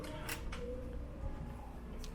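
An RFID hotel room door lock at a casino hotel releases with a few sharp mechanical clicks and a light creaking latch, close and fairly quiet against a low background hum.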